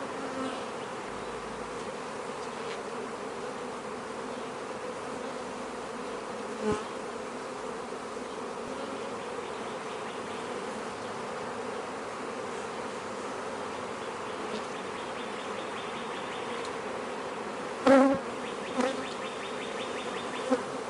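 Honeybees buzz in an open hive, a dense steady drone that fills the whole stretch, close and constant, with a couple of brief clicks and thumps from handling near the end.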